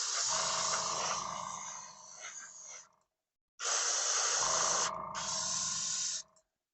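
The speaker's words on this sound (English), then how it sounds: "I can probably hit with a little bit of that gray Tamiya primer." Gray Tamiya primer is sprayed onto a Galaxy-class starship scale model in two long, close hissing bursts. The bursts are separated by a short silence, and there is no talking.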